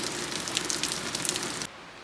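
Steady rain falls outdoors during a storm, a dense hiss of drops on surfaces that cuts off abruptly near the end.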